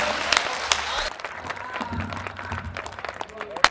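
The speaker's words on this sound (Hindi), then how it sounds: "मैं चाहता हूं कानपुर भरपूर तालियों से उन्हें आमंत्रित करें" A crowd in Kanpur bursts into steady applause welcoming a speaker, loud and sustained for a few seconds, with scattered individual claps standing out.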